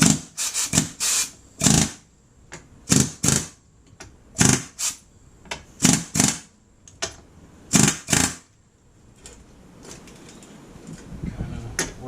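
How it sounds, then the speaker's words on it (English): An air hammer taps a coilover suspension part into place at a car's trailing arm in short, loud, sharp bursts of rapid hammering, repeated about a dozen times with brief pauses, close up. "use the air hammer to just"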